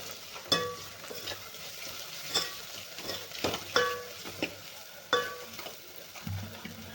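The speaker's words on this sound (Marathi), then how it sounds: "आता हे मसाले आणखीन चांगले आपल्याला परतून घ्यायचे" Sambar spices sautéing in a pan, a quiet background sizzle broken by sharp clinks and scrapes of a spoon stirring, irregular and close.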